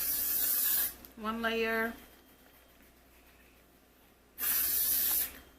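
Got2b hair spray misted onto a wig in two loud hissing bursts, with someone talking briefly between them.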